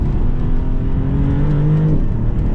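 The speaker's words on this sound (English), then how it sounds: "I love the exhaust note, the blow-off noises." A Maserati MC20 Cielo convertible with 621 horsepower drones loudly and close while driving, its exhaust holding a steady tone that rises slightly before dropping off near the end.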